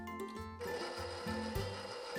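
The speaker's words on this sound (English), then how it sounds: "I'm just going to whisk this up until it's nice and stiff" Cream being whisked with vanilla and confectioners' sugar for a Snickers ice cream cake, a steady close rubbing, scraping whir that pulses in short repeated strokes throughout.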